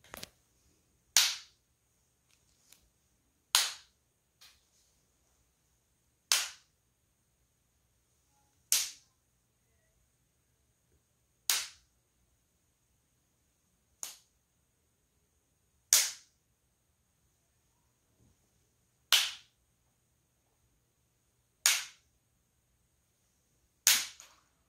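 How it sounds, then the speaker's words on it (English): Wooden sticks clacked together at different spots around a seated listener's head in an owl-hearing demonstration, giving about ten sharp, isolated clacks spaced a couple of seconds apart in an otherwise quiet room. "I'm gonna be clacking these sticks around Emily's head"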